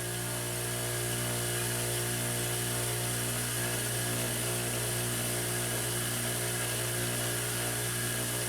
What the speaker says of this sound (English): Never grind on the side of your grinder wheel.